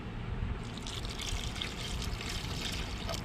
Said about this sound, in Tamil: தேவையான தண்ணி சேர்த்துக்குருவோம்